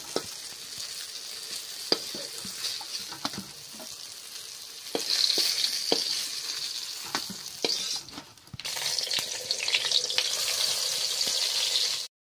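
Eggplant slices fry in hot oil, a soft continuous sizzle broken by scattered clicks and stirring sounds, growing louder and fuller in the second half.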